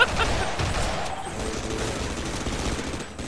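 Gold Uzi gunfire in the Half-Life co-op mod Sven Co-op: a steady, dense stream of rapid automatic shots blended into a busy, noisy game mix that holds for about three seconds.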